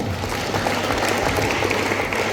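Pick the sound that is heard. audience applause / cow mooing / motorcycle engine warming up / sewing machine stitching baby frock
audience applause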